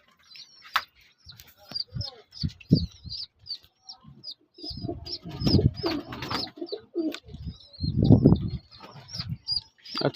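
Caged pigeons, wet from the rain, coo in low murmuring bursts, with occasional wing flaps and bird calls around them, while a person talks nearby.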